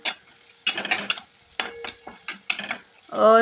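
Turmeric and chilli powder are sautéed in a pan for a garlicky spinach curry, heard as short bursts of scraping and clattering from a spoon against the pan over a faint sizzle, close and uneven, with a brief tonal sound at the end.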